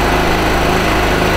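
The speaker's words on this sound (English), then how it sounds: "once we fire the engine we turn the choke off and that's running" Wolf Power WP2800LR petrol generator engine running steadily after starting with the choke turned off, a loud, close, even drone with a constant low hum throughout.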